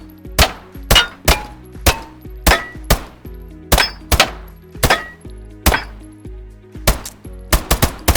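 Gunfire from a Minecraft gun mod rings out as targets are shot, with about a dozen sharp, loud, clanging shots at a steady pace, each decaying briefly, and a quick cluster near the end.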